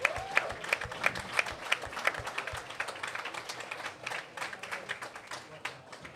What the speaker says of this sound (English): let's give Carson a round of applause